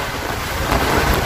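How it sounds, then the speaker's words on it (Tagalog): Strong wind from Typhoon Odette roars steadily and loudly into the microphone, a dense rushing buffet with no voices over it. "medyo lumakas na yung hangin"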